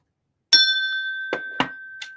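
A single bell dings with a clear, sustained tone that rings on steadily while several short bursts of speech cut in over it.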